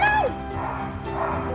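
A happy, wiggly young puppy up for adoption at an animal welfare shelter gives a few short, yappy barks and whimpery yips nearby, with some background voices and commotion.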